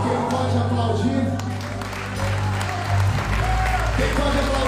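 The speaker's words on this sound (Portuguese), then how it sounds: "Quem pode aplaudir?" A church congregation at the AVIVA FLÓRIDA 2023 vigil applauds, a dense roar of clapping mixed with crowd voices and a sustained tonal drone, loud and close.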